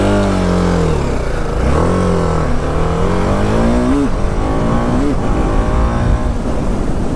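A BMW motorcycle after a crash runs steadily, its engine note drifting up and down in pitch over a continuous close rumble.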